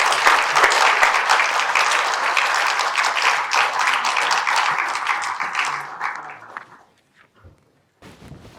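Audience applause greets speakers Matt and Angela at a charity lecture evening: dense, loud clapping for about six seconds, then tapering off into silence, followed by a short rustle.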